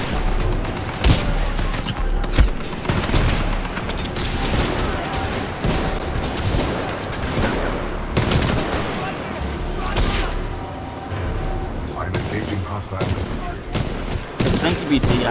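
Gunfire in the video game Titanfall 2 as the titan BT engages infantry: rapid bursts and booming shots, near and loud, continuing throughout with a voice talking over it.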